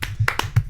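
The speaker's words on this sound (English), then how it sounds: "Thank you for the round of applause" A few individual hand claps in a podcast studio, about five separate sharp claps spaced unevenly over under a second, close and fairly loud over a low background hum.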